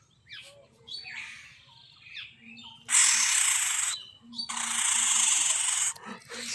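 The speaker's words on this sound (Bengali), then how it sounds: "এটা ময়না।" A pet myna bird calling close by, a run of whistles and squawks with two long loud harsh rasping screeches in the middle, over a faint low hum.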